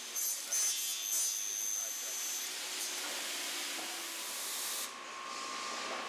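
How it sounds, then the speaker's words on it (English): A 4-head, 12-tool CNC corner cleaner works over fusion-welded window frames, giving a steady, fairly faint hiss of cutting and scraping with brief high whines from the tooling, continuous throughout. "The welded frames are then cleaned in a 4-head, 12-tool CNC corner cleaner."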